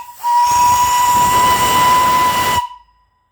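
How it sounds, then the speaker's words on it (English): A 2-inch all-brass steam whistle on a steam boiler blows one steady, loud blast lasting just over two seconds. Its clear tone rides on a hissing rush of steam, then it cuts off abruptly into silence. "Nice 2-inch whistle, all brass. I'll blow it here,"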